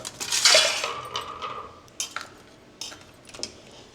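A metal cooking pot of water is set onto a gas stove in a home kitchen, a loud clattering knock followed by several lighter metallic clinks and taps.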